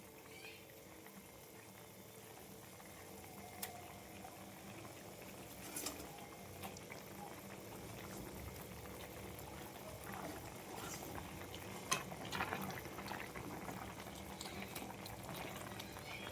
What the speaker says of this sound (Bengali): দেখো মাছের ঝোলটা ফুটে উঠেছে